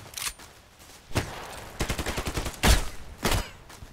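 Gunshots in the first-person shooter game Contract Wars: scattered single shots, then a quick rhythmic burst of automatic fire and two louder sharp reports, fairly close and clear with no talking over them.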